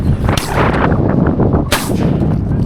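A lever-action rifle fires during an early-season goose hunt in North Dakota, two sharp, loud broadband cracks about 1.3 seconds apart over a steady, dense background.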